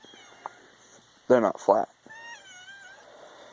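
A cat meows twice in quick succession, loud and close, after a few quiet spoken words; a faint tonal hum follows.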